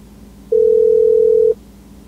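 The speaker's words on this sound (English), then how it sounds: "you might hear some ringtones or beeps in the vehicle" A single steady telephone tone sounds for about a second, loud and clean, between quiet stretches of line hiss, on a hold line inside a 2013 Chevrolet Volt during an OnStar diagnostic call.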